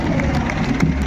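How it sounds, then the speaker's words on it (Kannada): Crowd at a Republic Day parade in Tumakuru's Mahatma Gandhi stadium applauds a wheelchair team of disabled marchers; a brief burst of clapping and cheering with mixed crowd noise, moderately loud and distant. "ವಿಶೇಷ ಚೇತನರ ತಂಡ, ಅವರಿಗೆ ಒಂದು ಜೋರು ಚಪ್ಪಾಳೆ"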